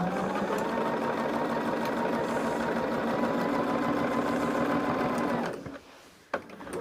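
A sewing machine stitches binding onto a quilt, running in a steady, continuous hum close by for about five and a half seconds before stopping abruptly, followed by a brief clunk and a quieter resumption.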